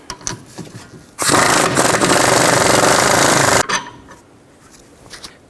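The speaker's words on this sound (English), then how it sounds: "Take this bolt out, use a 17mm socket." An impact wrench with a 17mm socket loosens a rear shock bolt on a 2004-08 Nissan Maxima, rattling loudly and continuously for about two and a half seconds, framed by quieter clinks and handling noise before and after.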